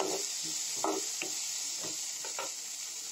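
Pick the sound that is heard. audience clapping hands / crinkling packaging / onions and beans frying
onions and beans frying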